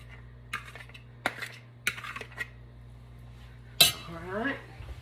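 Cooked rice being tipped back into a pan: a few sparse, close clinks and scrapes of a utensil against the pan, then a sharper clatter near the end.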